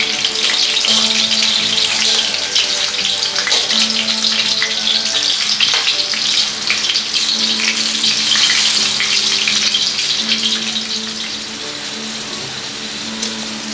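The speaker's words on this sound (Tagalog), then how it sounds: "magpa-fried muna tayo ng saging. Saging and patatas po," Saba bananas and potatoes fry together in hot oil, giving a loud, steady, crackling sizzle that carries on without a break, close up and with no voices.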